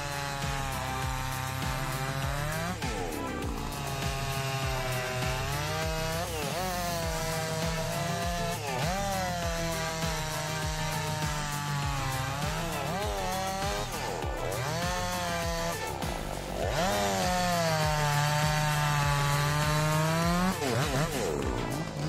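A chainsaw cuts through wood during tree felling. Its engine snarls loud and near, rising and dipping in pitch as it bogs into the cut and revs free again, for over twenty seconds.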